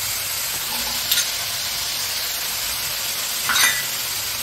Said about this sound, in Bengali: ভেজে নিতে হবে পেঁয়াজ, আদা, টমেটো সব ভেজে ভালো করে